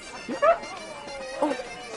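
A dog gives two short, soft yips or whimpering barks, spaced about a second apart, over a quiet indoor background with a faint hum.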